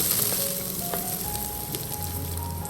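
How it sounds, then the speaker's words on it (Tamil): Shallots, green chillies, curry leaves and mustard seeds sautéing in oil over medium heat give a steady, close hiss of sizzling with faint crackles and a low hum underneath, no voices. "ஒன்றரை டேபிள் ஸ்பூன் எண்ணெய் விட்டு கொஞ்சமாக கடுகு கொஞ்சம் கருவேப்பிலை நாலஞ்சு பச்சை மிளகா கொஞ்சம் சின்ன வெங்காயம் இது எல்லாத்தையும் ஒரு நிமிஷத்துக்கு வதக்கி எடுத்துக்கோங்க"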